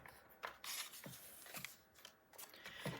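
Scissors cut paper on the diagonal in a quiet room: a close run of crisp snips and slicing rasps, several cuts in quick, uneven succession.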